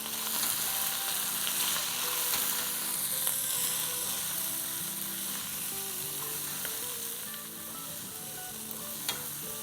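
Cabbage with chillies, salt and turmeric is stirred in a hot pan, sizzling and frying steadily throughout, with continuous scraping and stirring close by and no talk.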